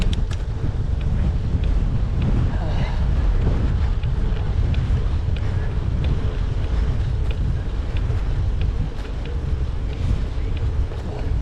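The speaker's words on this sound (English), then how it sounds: "that headwind sucks" A strong headwind buffets a cyclist's microphone on a gravel ride, a loud, continuous low rumble and roar with gusty fluctuations filling the whole stretch.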